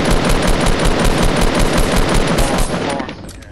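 Rapid automatic gunfire from the Fortnite video game rattles loud and continuous in an even, fast rhythm, tapering off in the final half second.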